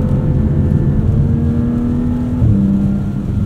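Engine of a 2024 Porsche 718 Cayman GTS 4.0 with PDK gearbox, a steady, smooth tone heard from the cabin while driving, holding a level pitch before stepping down briefly as if shifting.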